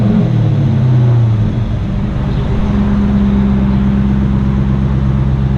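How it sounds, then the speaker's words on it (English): Car engine with stock headers and no resonators, loud and close, revving briefly at the start, dropping back within two seconds, then settling into a steady low idle rumble. "Alright, go ahead and give it a little rev."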